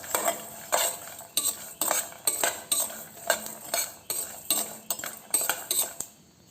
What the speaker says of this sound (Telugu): ఆ నువ్వులు కూడా వేసి ఒక 2 మినిట్స్ వేయించి పక్కన పెట్టేసుకుందాం. కాసేపు చిటపటలాడితే చాలండి